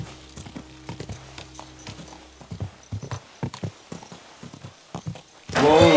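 Horse hooves clip-clop at a steady walking rhythm in Kingdom Come Deliverance II, crisp and close over a low hum, ending in a burst of louder noise.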